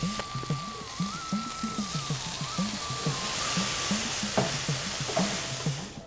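Tomato puree sizzles in a hot pan as water is added, with steady frying crackle under repeated rhythmic stirring scrapes, close and moderately loud throughout.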